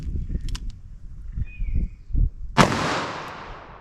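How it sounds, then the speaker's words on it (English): A single sharp .357 Magnum gunshot fired into ballistic gel, a loud close crack with a long decaying tail, preceded by quieter thumps and a brief bird-like chirp. "I'll set that with our 357 Magnum"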